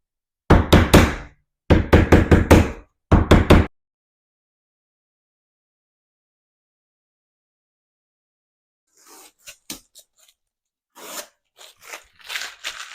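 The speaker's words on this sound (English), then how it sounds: "take a rubber mallet, line up the next one, line up the last one." A rubber mallet tapping a hinge mortise template into place on a door, three quick clusters of sharp, close knocks followed by quieter scraping and handling after a long silence.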